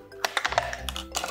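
Scissors cut a plastic bottle in a few quick snips and crunches close up, brief sharp clicks spaced irregularly over about a second.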